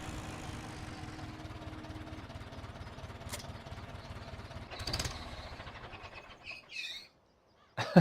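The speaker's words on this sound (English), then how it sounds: "I like how that tractor shuts down. You can even hear that little fan bell squeaking." A Case International mini tractor in a farming video game idles low and then winds down to silence, with a brief squeak from a fan belt near the end; faint and alone.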